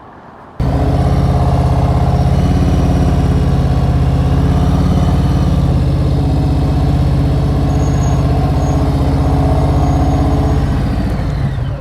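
A motorcycle engine roars to life abruptly and runs loud and close, a steady rumbling drone during a smooth start and stop, easing slightly near the end.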